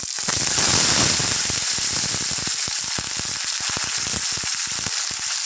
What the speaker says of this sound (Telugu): ఆయిల్ హీట్ అయ్యాక జీరా ఉన్ను ఆవాలు వేసుకుందాం ఫ్రెండ్స్ ఇందులోనే ఒక నాలుగు ఎండుమిర్చి ఒక ఐదు వెల్లుల్లిపాయలు కొద్ది కరివేపాకు వేసుకున్నాం